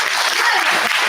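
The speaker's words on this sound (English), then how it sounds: "I'm just going to ask you all to give yourselves a round of applause." Audience applause at a community day of unity and prayer gathering, a short dense burst of clapping from a crowd, steady and fairly loud throughout.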